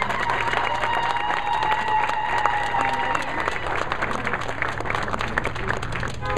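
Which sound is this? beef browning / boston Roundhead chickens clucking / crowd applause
crowd applause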